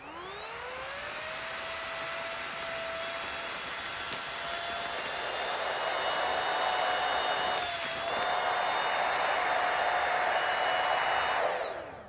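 An electric vacuum pump sucking air from a travel vacuum bag hums with a steady high whine for about twelve seconds, its pitch rising at start-up and dipping briefly midway before cutting off.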